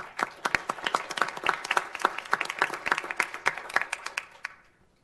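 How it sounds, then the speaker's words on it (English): Audience at a city council regular meeting claps for council volunteers, a moderate round of individual claps that builds, holds steady, then tapers off and fades at the end. "so let's give them a round of applause"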